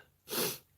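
A single short, sharp sneeze bursts out close by, with quiet room tone before and after.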